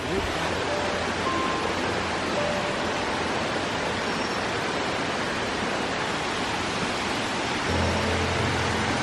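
Steady roar of a waterfall at Bamboo Dale in Munnar, a dense constant rush of falling water filling the scene at close range with no break.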